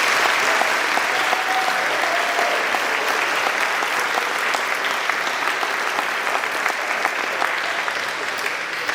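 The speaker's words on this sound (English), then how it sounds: "let's give our students one more round of applause" Audience applauds students at a Christian academy's 2024 academic awards ceremony, sustained, even clapping from a full room that carries on throughout.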